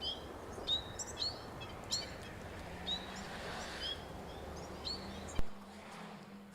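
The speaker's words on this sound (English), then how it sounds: "here is one sound by the citrus finch, just because it's a mountain species" Song of a citrus finch, a mountain species: repeated short high whistled notes roughly once a second over a steady low background hum, with a louder click near the end.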